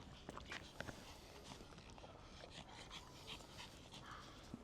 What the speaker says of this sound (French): Un bon toutou ça.